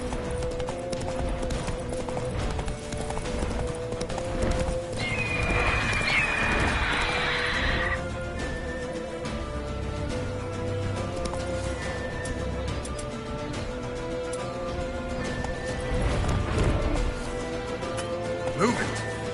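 In The Witcher 3, a horse gallops with rhythmic clip-clopping hooves and a whinny over a steady game soundscape, while characters speak.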